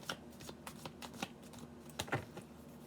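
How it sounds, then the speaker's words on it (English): A deck of tarot cards being shuffled up close, a quick run of crisp riffling flutters and soft slaps, quiet and alone with no talk. "We are shuffling the deck for Sagittarius."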